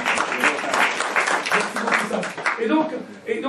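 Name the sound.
congregation applauding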